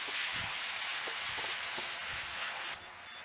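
A thick curry sauce with apple and pear gets stirred in a pot, a soft continuous sizzle and wet scraping with a few faint knocks of the spoon, close and quiet.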